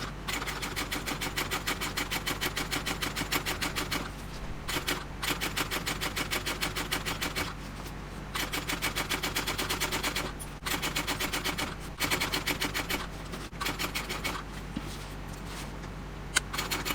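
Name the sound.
sewing machine back stitching over a handbag seam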